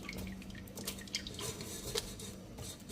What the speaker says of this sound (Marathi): त्याला अशी अशा प्रकारे पूर्ण त्याचं पाणी निथरून घ्यायचं आहे